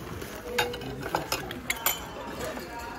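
Ceramic dishes clinking at a flea market, with a handful of light, sharp chinks scattered over a busy background murmur of crowd noise and distant voices.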